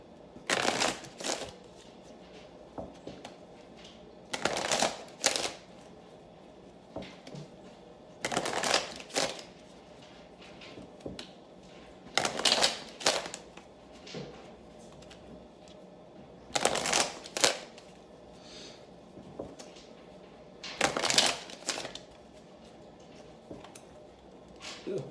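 Tarot cards are shuffled in six separate bursts of riffling, each lasting about a second or two, separated by quiet pauses. The shuffling is close and crisp, and no one talks.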